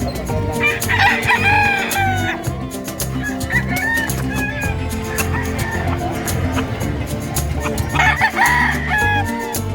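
Loud roosters crow repeatedly amid chickens clucking and a busy, noisy crowd at the Malasiqui livestock market, with several crows overlapping at close range.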